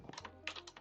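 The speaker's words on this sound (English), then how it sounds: "And also this keyboard's loud." Rapid clacking keystrokes on a loud computer keyboard, close and fairly sharp, in an uneven burst lasting under a second with no talking.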